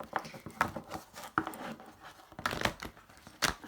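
Tarot cards shuffled by hand, a run of short papery riffles and crisp snaps in uneven bursts, close and moderately quiet, with no talking.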